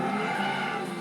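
Tires squealing as a muscle car brakes hard and skids in Gran Turismo 6, a loud sustained screech with engine hum, steady throughout.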